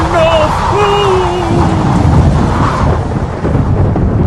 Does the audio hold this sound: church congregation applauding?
no